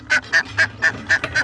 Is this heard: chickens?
yes